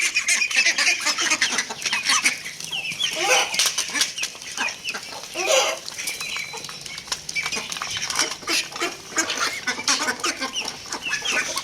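Several chickens squawk and cluck in agitated bursts, loud and close, with scuffling noises and a steady background din throughout.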